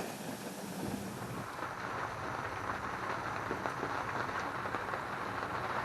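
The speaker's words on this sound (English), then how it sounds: "Rain, rain, rain, rain, rain, rain, rain, rain, rain, rain, rain, rain" Rain falls steadily on a boat, a dense, even hiss of drops that runs unbroken and fairly loud throughout, with no voices.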